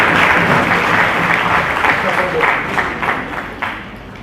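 A hall full of parents claps for honoured SSC students at a coaching-class felicitation ceremony in Aurangabad: dense, loud, sustained applause that gradually thins out toward the end.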